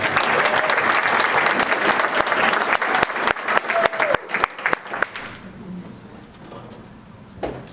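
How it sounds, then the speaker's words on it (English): An audience at an indoor tech seminar applauds, a dense burst of clapping with a few sharp individual claps that thins out and fades after about five seconds. "we should give a round of applause to Janice"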